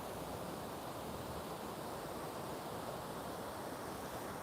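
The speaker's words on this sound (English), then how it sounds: "So you've got that top waterfall," A waterfall flows nearby on an early-morning walk, a steady, dense rushing wash of water with no pauses or talk.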